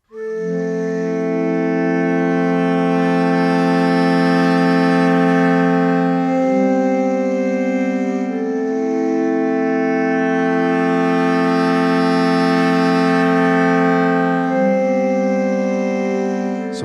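Layered orchestral sample air horns and woodwinds sustain rich, brassy chords that shift in pitch every few seconds, loud and continuous like a low foghorn blast, with no voices.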